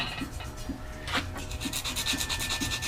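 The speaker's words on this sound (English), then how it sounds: "mini sand block, you might call it. Squishy foam. And I put some 120 on it." Wood being sanded by hand with a squishy foam block wrapped in 120-grit paper, heard as steady close rubbing and scratching strokes in an even back-and-forth rhythm, with no speech.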